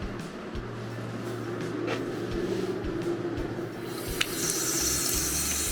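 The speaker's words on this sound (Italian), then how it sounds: "E nonostante il gelo, l'acqua dei lavandini funziona." Water runs steadily from a sink tap, a broad hiss and splash that grows a little stronger toward the end, with no talking.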